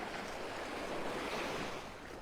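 Ocean waves wash continuously onto a beach in North Naples, Florida, stirred up by a breezy passing storm, with wind noise over the steady surf and no talking.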